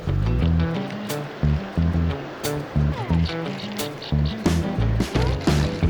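Water rushes steadily below a local river spillway, a constant broad roar that fills the scene from start to finish, with some faint rhythmic knocking underneath.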